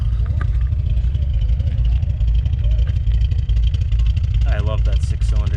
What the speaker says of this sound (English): I love that 6-cylinder sound.